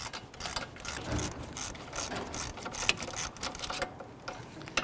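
A ratchet wrench works a wheel hub bolt on a 2011-2017 Nissan Quest during a front wheel bearing and hub replacement: a close, steady run of rapid mechanical clicks and grinding over the full stretch, with no talking.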